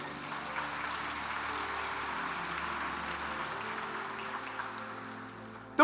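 Church congregation applauding during a Portuguese-language sermon, a steady wash of clapping held at an even level for several seconds before a brief louder burst at the very end.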